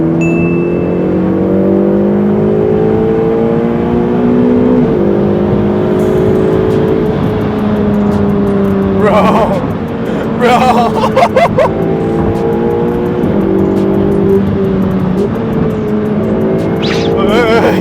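A Ferrari 488 Pista Piloti sports car drives through curves with its engine droning loudly and rising and falling between gear changes, plus bursts of rattling and tire noise midway, while people talk inside.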